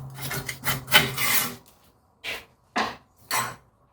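Rust is scrubbed off a brake rotor on a Chevrolet Equinox in a rough, rasping burst of strokes, followed by three short separate scrapes, close and fairly loud with no talking.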